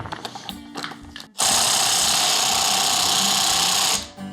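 A Ryobi power tool hammers at a rusty part while a jet pump is being removed from a junkyard jetboat. It is a loud, continuous, rattling burst of about two and a half seconds after some brief clatter, then cuts off.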